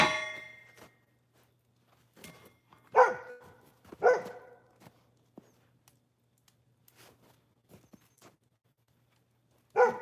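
Dogs bark outdoors in several short bursts, some moderately loud and others faint and distant, separated by quiet gaps and a low steady hum.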